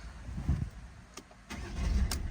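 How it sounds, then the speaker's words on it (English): A Citroen or Peugeot car engine, one with an AdBlue emission fault, cranks and catches with short bursts, then settles into a steady low running rumble, heard up close with no talking. "turn the engine on"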